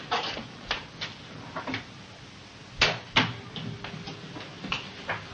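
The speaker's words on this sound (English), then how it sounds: "Close the door." An interior door in a 1940s military drama scene is shut with a few soft thumps and clicks, close by, with faint room handling noise and no voices.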